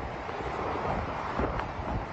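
A strong typhoon wind roars against the microphone during heavy rain in Oriental Mindoro, producing a continuous dense rush with no breaks and no voices.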